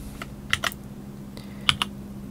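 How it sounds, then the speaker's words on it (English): Typing on a computer keyboard while recording a key macro: a few quick separate keystrokes in two short pairs, crisp and close, over a steady low hum, with no talking. "Here I will type"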